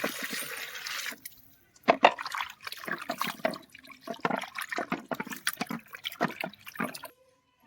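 Water splashes and trickles in short irregular bursts as raw fish pieces are rinsed clean in a home kitchen, the sloshing stopping and starting close by with no talk.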